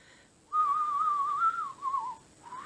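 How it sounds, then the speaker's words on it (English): A person whistles by drawing air in rather than blowing out, producing one sustained, slightly wavering tone for about two seconds that dips briefly near the end, heard alone with no talk. "I whistle like sucking in instead of blowing out."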